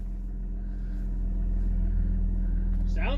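An imported Japanese twin-turbo Super Coupe idles with no throttle, a steady deep low rumble held close and loud throughout, with a brief chirp at the very end.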